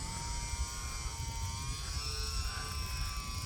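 A small E-flite UMX Turbo Timber RC plane flies into the wind, its thin, steady motor whine sitting over a low, continuous rumble of wind buffeting the microphone.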